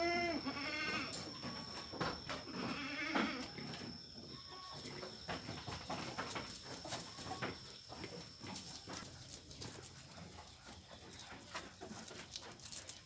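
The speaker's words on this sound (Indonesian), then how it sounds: "Nah, ini ada anakan kambing banyak sekali." Etawa goat kids bleat in a pen on a clean farm, several small animals calling near and loud at the start, then softer overlapping bleats and shuffling noise continue throughout.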